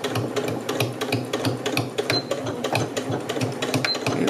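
Sewing machine stitching the tie onto a fabric face mask, a fast, steady mechanical clatter of needle strokes close by, with a short pause as the stitching reverses direction.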